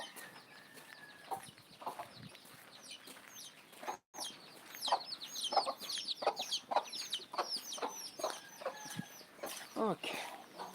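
A flock of birds quacks and chatters close by, a busy stream of overlapping calls with no talking.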